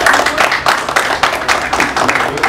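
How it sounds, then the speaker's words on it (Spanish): Applause from an audience at a press conference for a dance competition, steady dense clapping filling the whole moment at close range, loud and continuous without pause. "Un aplauso."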